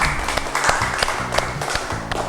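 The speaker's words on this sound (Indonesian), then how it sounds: "Kita berikan tepuk tangan ulang lagi kepada kelompok 1." A class clapping for group 1 after their presentation, close and fairly loud with distinct individual claps over a low background hum.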